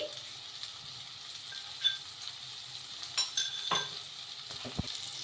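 Ginger garlic paste and ground pepper stirred in a pan, with a steady low sizzle of frying under a few soft scrapes of the spoon against the metal.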